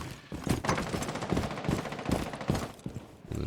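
Gunfire from a shooter video game, a steady run of quick shots in close succession, loud and dense across the whole moment.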